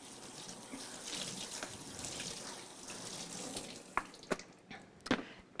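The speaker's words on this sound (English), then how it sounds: "I've got 1 bag of broccoli. And I like to rinse it" Broccoli is rinsed in a little colander under a running kitchen tap, with a steady close rush of water and a few sharper splashes and clatters near the end, and no talking.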